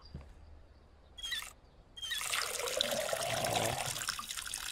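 Tap water running as containers are filled, a faint trickle at first and a brief splash, then a strong steady stream from about two seconds on that continues to the end, no talk.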